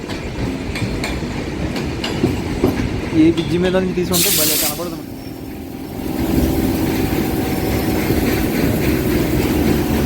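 Trains pass each other near Vijayawada, one of them an LHB train beside a goods train, heard from aboard a MEMU train as a loud continuous rumble with a burst of hiss midway, while a voice speaks over the noise.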